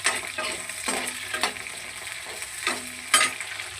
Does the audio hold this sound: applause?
no